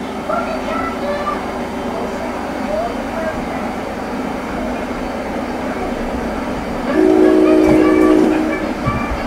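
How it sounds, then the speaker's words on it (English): An NJ Transit ACES train in Train Simulator 2016 on the Northeast Corridor rumbles past with steady rolling noise, then a louder horn blast near the end; no one speaks. "Now after this, you're gonna see an ACES train."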